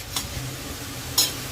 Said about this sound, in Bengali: পেঁয়াজটা বেশ ভালোভাবে লাল লাল করে ভাজা হয়ে গেছে।